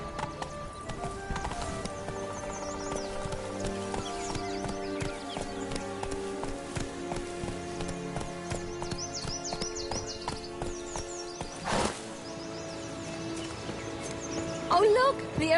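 Roach the horse galloping in The Witcher 3: Blood and Wine, rhythmic hoof clip-clops running steadily over a game soundscape with music and ambient effects, a brief whinny-like burst near the end.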